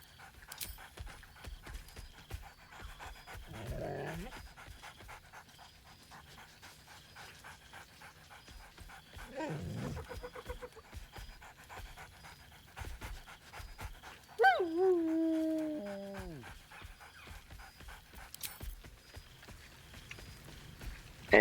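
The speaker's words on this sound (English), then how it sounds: "Scratch barks merrily in something like agreement." Scratch, the dog companion in Baldur's Gate 3, gives a couple of brief barks early on, then pants and whines later, over game ambience with clopping footsteps and a short melodic chime.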